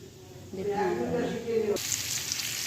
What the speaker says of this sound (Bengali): গরম হয়ে গেছে কড়া, এরপরে টমেটোটা দিচ্ছি।